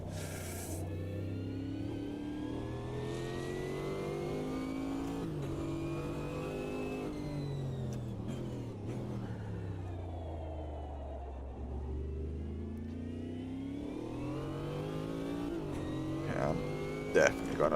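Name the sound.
GT4 race car engine accelerating in a racing video game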